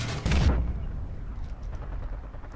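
Battlefield Bad Company 2 gunfire opens with a loud, sharp boom-like report that rolls off into a long rumbling tail and steady background din.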